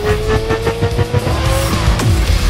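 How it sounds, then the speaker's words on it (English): A Camaro race car with its nitrous oxide system engaged roars across a desert race course, loud and close with a rising whine and gritty tire noise. "It looks like he's been forced to activate his nitrous oxide system."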